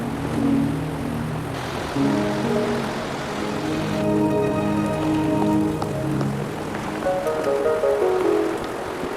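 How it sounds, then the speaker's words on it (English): Steady rain falls in the video game Wuthering Waves, a continuous hiss of drops on surfaces beneath soft ambient game music tones, with no talking. "Are you trapped here by the rain?"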